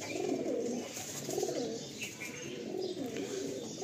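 Soft, throaty pigeon coos repeat in low rolling phrases, several loft pigeons close by, with faint chirps in the background.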